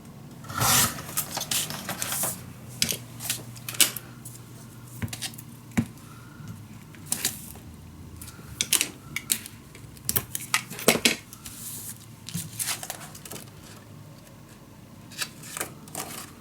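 Paper for a mini album is cut to size: irregular crisp scraping and snipping bursts with short pauses between, close and fairly faint, with no talking.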